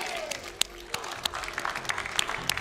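An esports arena crowd at a CS pro league match claps and cheers, a dense sustained roar of applause broken by sharp shouts and whistles from the stands.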